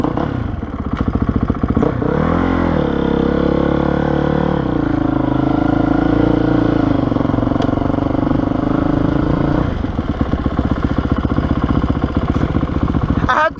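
A Honda CRF450R dirt bike engine runs loud and close throughout, its steady rumble rising and falling as the rider revs and accelerates along trails.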